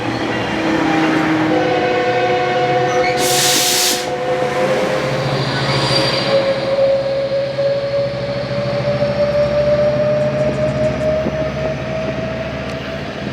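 A freight train rolls past and gradually slows, a loud, continuous rumble with rising tonal whines and a steady hiss, plus a short burst of air noise early on, all close by and with no talk.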